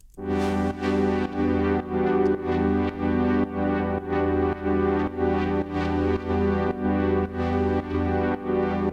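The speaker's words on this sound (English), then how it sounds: "because it's a pad sound, you want it to be spacious and dreamy," A lush synth pad drenched in Valhalla Supermassive reverb (Forever Verb preset) pulses in a steady rhythmic pattern, sustained chords blurring together into a wide, washy texture with no voices.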